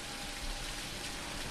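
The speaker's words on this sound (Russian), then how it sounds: "Освежились под дождем в грозу." Steady rain pours during a thunderstorm in the video game Jalopy, a dense, even hiss with no voices and no breaks.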